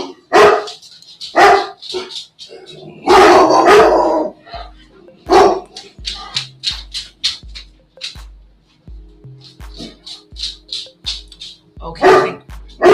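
Puppies bark indoors in loud, repeated bursts, some overlapping into a brief flurry, with short yips in between. A faint voice sits under the barking and a quiet rhythmic tapping runs through the background.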